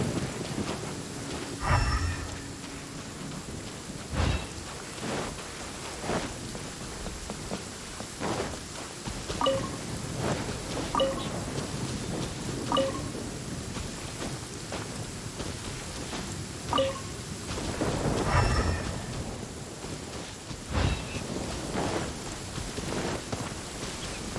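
A thunderstorm in the Genshin Impact video game brings steady, heavy rain, broken by repeated rumbles and cracks of thunder, some close and some more distant, with no voices.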